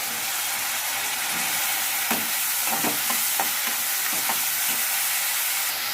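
Cauliflower pieces, washed in salt water, frying in a pan with a steady sizzle and hiss, a few soft stirring scrapes and clinks standing out, close and continuous with no talk.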